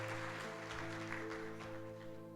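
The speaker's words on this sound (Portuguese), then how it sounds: "Vamos dar um aplauso, igreja, para essas pessoas que vieram pela primeira vez." Church congregation applauding first-time visitors at a Sunday service, a dense steady wash of clapping filling the room, with a sustained tonal hum from instruments or sound system underneath.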